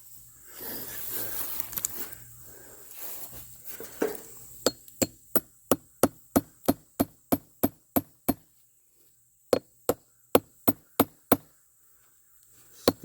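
Rotten wood being pounded with a hammer, a run of about twenty sharp, loud, evenly spaced knocks after a stretch of quieter scraping and handling noise, with a short pause partway through the blows.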